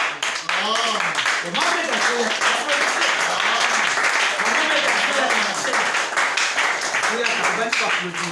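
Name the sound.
congregation applauding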